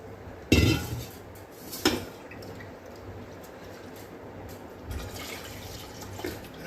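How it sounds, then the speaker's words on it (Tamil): Moong dal is rinsed in a pot with water, giving faint sloshing and a few sharp clinks of metal against the pot, two louder knocks early on, then quiet swirling with occasional light taps. "I'll just wash this again."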